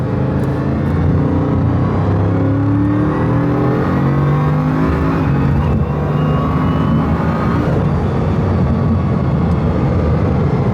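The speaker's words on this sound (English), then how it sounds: "So to hear this car have all of that and 4 turbos" A Bugatti Chiron Pur Sport with quad turbos roars loudly and continuously, its engine and transmission droning through rising and falling pitch sweeps, with a faint high turbo whine climbing partway through.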